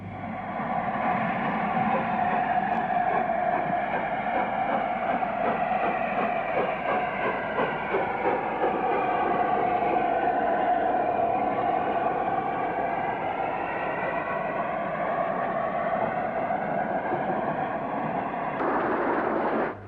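Three-cylinder Class O2 steam locomotive Lord Farringdon pulling away, a loud sustained chuffing roar with a rhythmic beat and rail clatter that holds steady throughout.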